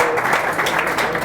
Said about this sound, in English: So applause for Hector.